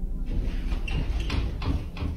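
A living-room door shakes and rattles in its frame, giving repeated knocking jolts in close succession, loud and near.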